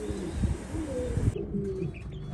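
Pigeons cooing in a loft where a male sits on his eggs, soft low rolling coos close by with a few faint chirps, no voices.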